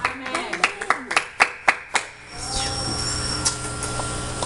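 A church congregation claps during the pastor's sermon: a run of sharp, evenly spaced claps for about two seconds, then the clapping gives way to a steady wash of room noise and voices.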